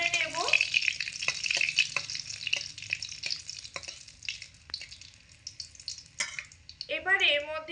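A bay leaf and a dried red chili with nigella seeds crackle in hot oil during tempering for a potato curry, a busy sizzle broken by clicks and spatula taps, with a brief squeaky tone near the end.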